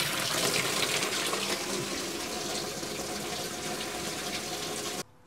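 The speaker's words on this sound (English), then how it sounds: "Now, let me turn the cold water on." Hot and cold water pour together from an RV sink tap with a Girard tankless water heater, a steady, close rush of flow that cuts off abruptly near the end.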